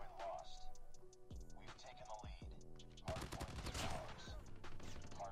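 Rapid bursts of AUG rifle fire in Call of Duty Mobile, loud and close with clicking game effects, as players talk over the shooting.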